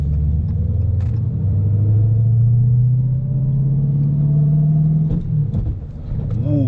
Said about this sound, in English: Gave it a little bit of gas, put it in second, and went in